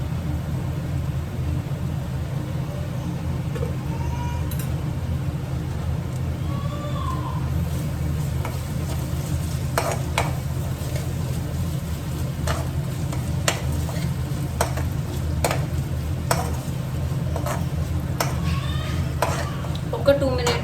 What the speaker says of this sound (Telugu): ఆనియన్స్ గోల్డ్ కలర్లో వచ్చేంత వరకు ఫ్రై చేసుకుందామండి